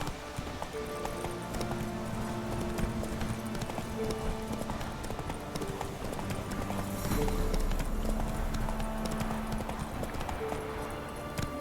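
Horse Roach clip-clops at a steady gallop in The Witcher 3, hoofbeats continuous and fairly close over game music and ambient background sound.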